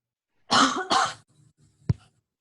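Two harsh coughs in quick succession, close by over a Zoom call, followed by a softer throat sound and one short final cough.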